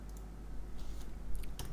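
Computer keyboard used to press Enter and paste, a scattering of soft key clicks that end in a brisker cluster of taps, close and fairly quiet against a low background hum.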